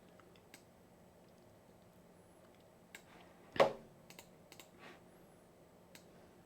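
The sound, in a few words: typing on a new computer keyboard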